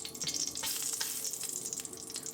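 About twenty peppercorns fry in hot vegetable oil in a pan, giving off a steady bright sizzle with crackling pops throughout, close and fairly quiet.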